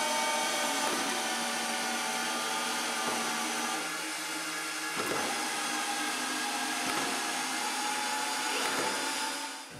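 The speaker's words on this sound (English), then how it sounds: "Screwing 15-inch screws takes some time." A brushless Canadian Tire Maximum drill drives a 15-inch screw through two stacked 8x8 wooden blocks, a steady close whining motor hum with periodic brief dips and surges as the screw bites into the wood.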